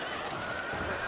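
A horse neighs loudly amid cavalry fighting in the video game Shogun 2 Total War, a short whinny over a dense wash of battle noise with faint hoofbeats mixed in.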